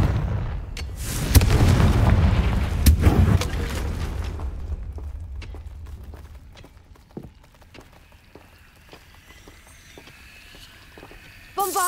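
A Confringo fire-blast spell erupts in Hogwarts Legacy, a heavy booming blast with rumbling fiery roar that decays over several seconds into scattered crackles and small impacts, ending with a faint voice.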